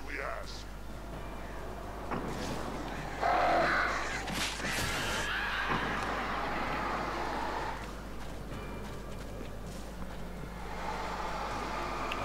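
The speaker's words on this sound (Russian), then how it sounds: "И ворона это кошмар." Crows caw in the video game Alan Wake, harsh calls ringing out over a windy, rumbling game ambience with sharp bursts of action sounds, while someone talks over the scene.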